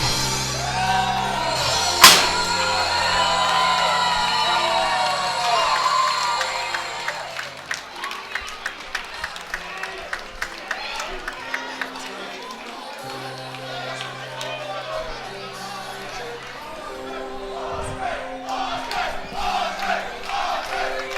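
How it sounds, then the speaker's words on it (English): A large crowd cheers and chants for Andre Rivas as he is crowned 2019 Big Buck World Champion, loud and sustained, with rhythmic chant pulses and a commentator talking over it. "And you can hear the crowd cheering. The Andre chants have come back out."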